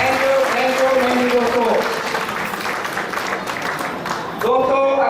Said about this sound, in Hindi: तो मैं चाहता हूँ दोस्तों एक बार खड़े होकर सर के लिए जोरदार तालियां हो।